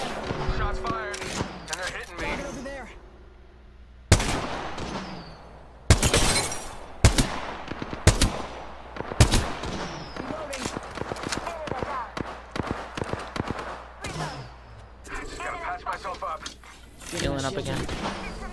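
Gunfire in Apex Legends rattles in fast bursts and single sharp cracks, loud and close, scattered across a tense firefight with in-game voice lines and player talk running between the shots.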